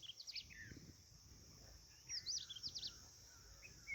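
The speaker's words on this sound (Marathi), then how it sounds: "पक्ष्यांचा आवाज येतोय थोडाफार" Several small birds chirp and tweet in quick high bursts, fairly faint and somewhat distant, over a quiet outdoor background.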